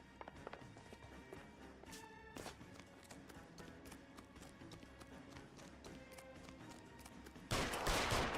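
Scattered shots in the L.A. Noire shootout, a few sharp cracks early on over steady game ambience, ending with a loud burst of noise.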